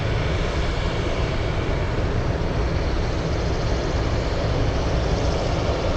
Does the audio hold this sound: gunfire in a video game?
no